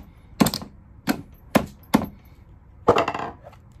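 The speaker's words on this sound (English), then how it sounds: "So you can take a mallet, tap it clockwise" A mallet taps a drill chuck clockwise to tighten it onto the spindle of a drill whose bit keeps slipping. Five sharp, close knocks land at uneven intervals, and the last one is heavier.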